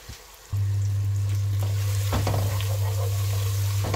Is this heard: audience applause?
no